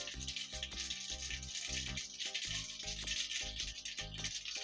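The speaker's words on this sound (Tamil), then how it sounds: "காஞ்ச உடனே கொஞ்சமாக கடுகு பொரிஞ்ச உடனே" Mustard seeds splutter and pop in hot oil while tempering for temple-style puliyodarai, giving a quiet, continuous crackle of rapid irregular pops.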